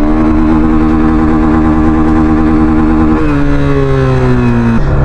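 A Yamaha FZ-25 motorcycle engine held hard against its rev limiter, a loud, steady, buzzing drone that surges and dips as the cutoff repeatedly bites, with no talking.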